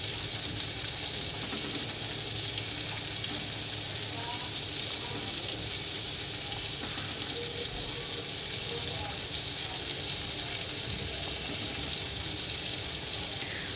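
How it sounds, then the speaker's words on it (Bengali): Egg curry gravy bubbling and sizzling in a pan as eggs go in, a constant loud frying hiss running throughout with faint stirring. "ঝোল ফুটে উঠেছে এবার আমি এক একে ডিমগুলো দিয়ে দেবো"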